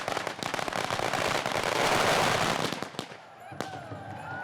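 Lunar New Year firecrackers and fireworks burst in Hobart, a dense rapid crackle of close pops building to a loud roar, then thinning into scattered sharp bangs with faint crowd voices beneath.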